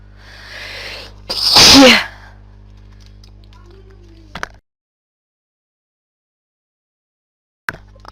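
One loud, close sneeze with a sharp breathy burst, followed by quiet and a couple of faint clicks.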